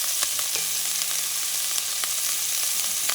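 Sofrito hitting hot oil in a pot for Puerto Rican chicken noodle soup, giving a loud, steady, close sizzle and crackle throughout, alone without speech.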